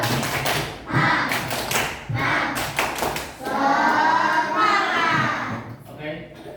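Schoolchildren in an Indonesian classroom perform a rhythmic 'tepuk semangat' spirit clap, bursts of sharp patterned hand claps alternating with chanting children's voices, loud and close.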